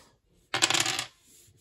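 Two dice from the Marvel Dice Throne board game clatter across a tabletop in one quick rattling burst of rapid clicks that settles within about half a second.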